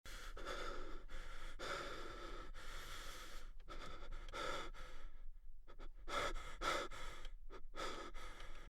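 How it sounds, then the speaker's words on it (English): Heavy panting breaths added as a sound effect to a horror game set in an airport, coming in close, repeated bursts with short gaps, loud and alone with no talk. "I added a panting audio sound to increase the creepy feel"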